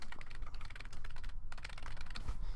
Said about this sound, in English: you're just going to type it in here really quick